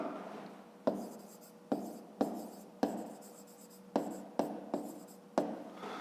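Handwriting on paper during a fifth-grade math exercise: steady scratchy pen strokes broken by several sharp taps as the pen lifts and lands, close and fairly quiet, with no voices.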